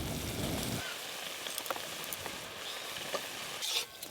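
Radish greens cooking uncovered over high heat in a pan, a steady close sizzle and crackle with small pops and scrapes throughout, rising briefly near the end.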